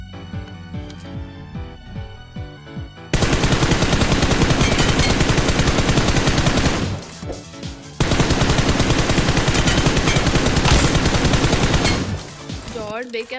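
An M4 rifle in a shooting video game fires long, loud, rapid bursts that run for seconds at a time, split by short pauses, with gunfire dominating throughout.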